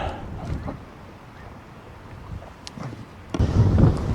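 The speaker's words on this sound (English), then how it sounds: "The wind actually has died down a bit since last time I was out here" Winter wind gusts at a cold campsite, buffeting the microphone in low rumbling bursts that are quieter early on and then strengthen into a heavy blast near the end, no talk.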